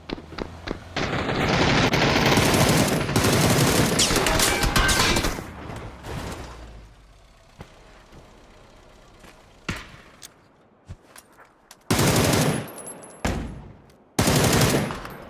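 Vandal rifle fire in a competitive shooter video game: rapid automatic bursts rattle loudly for several seconds, followed by scattered single shots and two more sharp bursts later, with no talk over them.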